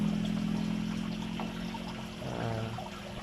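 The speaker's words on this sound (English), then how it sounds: "there's already water flowing out of it." Water pours steadily out of a DIY PVC overflow pipe into an aquarium, a continuous splashing trickle that stays close and fairly loud throughout.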